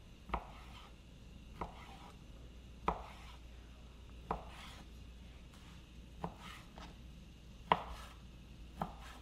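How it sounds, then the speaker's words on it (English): A knife chops through an 8-ounce ham steak on a board in eight distinct, evenly spaced thuds, each a close, sharp tap in a quiet room. "I'm doing one that's about an 8-ounce ham steak is what I'm gonna cut up."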